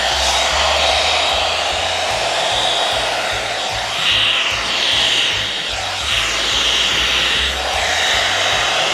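An Agaro blow dry brush runs steadily on hair, a loud, close, continuous whooshing hum with slight swells as it moves, and no talking.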